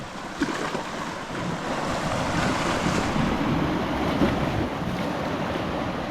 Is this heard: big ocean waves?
yes